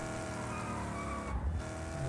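A car drives in the Just Cause 4 video game, its engine droning steadily at close range with a brief dip and a low thump partway through.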